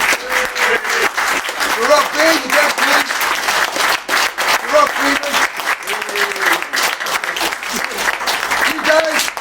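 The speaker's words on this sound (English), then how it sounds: "a round of applause for Ceylon, please." Vigorous audience applause fills a conference hall at the close of a session, continuous dense clapping with someone speaking loudly over it throughout.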